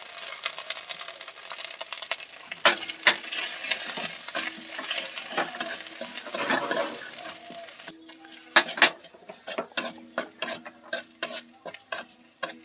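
Spices with red chilli and salt sautéing in a pan, a continuous close sizzle broken by repeated sharp stirring scrapes and spatula taps that grow more distinct and rhythmic toward the end, with no voices.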